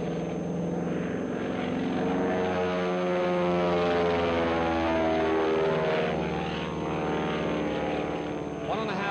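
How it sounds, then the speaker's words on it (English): A Stearman biplane with a 450-horsepower engine drones overhead at an air show. The loud propeller roar holds steady and shifts slightly in pitch as the plane passes. "Pilots who have flown the Stearman with a 450 horsepower engine in it really love it."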